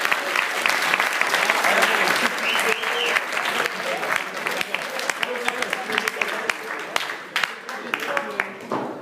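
Audience applause at an improv theatre match, loud and sustained, with crowd voices and cheers mixed into the clapping.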